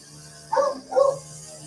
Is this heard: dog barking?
yes